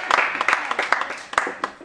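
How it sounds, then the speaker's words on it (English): An open mic crowd gives a short round of applause, a few distinct claps standing out within the steady clapping, fairly close, with some voices. "Let's give him another round of applause, please."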